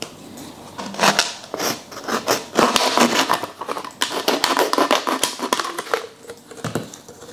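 Scissors snip through a plastic bottle to halve it for an aquarium snail trap, giving a dense run of crisp cutting clicks and crinkling plastic crunches, close and steady with no talk.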